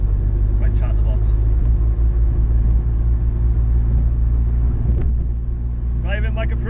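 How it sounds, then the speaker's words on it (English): Continuous loud low engine drone and road rumble from inside a turbocharged Zetec-engined Ford Capri on the move, steady for several seconds with faint speech-like chatter on top. "Driving my Capri."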